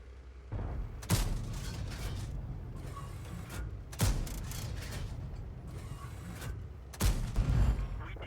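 The Strv 103B tank's 105mm autoloading main gun firing in World of Tanks: three sharp, loud blasts spaced a few seconds apart over steady mechanical engine and track noise, with no voices.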